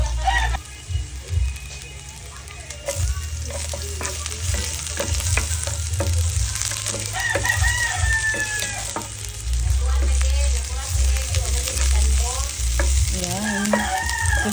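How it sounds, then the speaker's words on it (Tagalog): Garlic and onion sautéing in a pan for mung bean stew, a steady loud sizzle and frying hiss with occasional stirring scrapes, while a rooster crows in the background and a person talks over it. "So gisa natin bawang at sibuyas."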